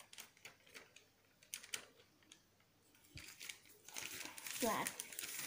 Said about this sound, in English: Turn over and fold on this crease.